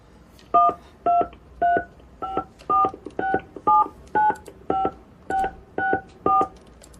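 Touch-tone keypad beeps from a mobile phone as a 16-digit credit card number is keyed in: about a dozen crisp dual-tone presses in a steady, evenly spaced rhythm, heard alone.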